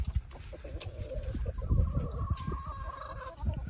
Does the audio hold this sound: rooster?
yes